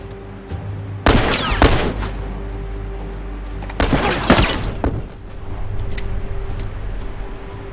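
Burst rifle fire in The Last of Us multiplayer video game: two clusters of rapid, loud cracking shots about three seconds apart over a low background hum, with scattered fainter pops between.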